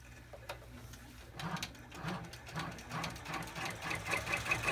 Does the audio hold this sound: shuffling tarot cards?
no